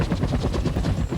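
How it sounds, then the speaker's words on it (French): A loud, rapid rhythmic chopping of police helicopter rotor blades, close and steady for about a second. "voici une scène épique avec un hélico de police"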